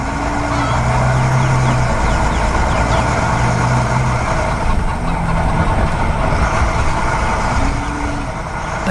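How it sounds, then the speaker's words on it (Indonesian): Cartoon chickens cluck near a farm fence where goats also play, a busy, steady scene with fowl calls over a dense background of engine-like rumble and music. "Kambing dan ayam yang lucu bermain di sekitar pagar."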